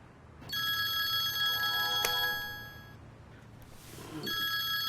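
A telephone rings at night in a Turkish drama scene, with two electronic trilling bursts separated by a short pause, moderately loud over faint room hiss.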